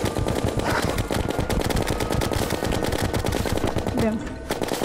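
Rapid bursts of gunfire from the Terraria video game, loud and continuous across the whole stretch, with a dense rattling machine-gun rhythm and a voice briefly speaking near the end.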